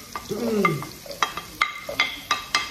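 Ingredients are sautéed in a pan over a soft sizzle, with a quick run of sharp, evenly spaced spatula clacks and scrapes close by, and a brief voice-like sound near the start.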